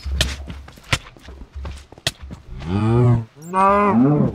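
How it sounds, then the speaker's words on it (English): A cow in a video game gives two loud, drawn-out moos close by, preceded by a run of thumping footsteps, with no talk. "Cow."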